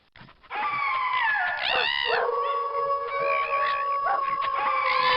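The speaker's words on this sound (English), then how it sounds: "Click on the wolf, coyote, fox, and dog to hear their canine chorus" Wolf, coyote, fox and dog from an educational animal game howl together in a layered canine chorus, rising and bending wails with yips over a steady sustained tone, loud and continuous after a brief quiet start.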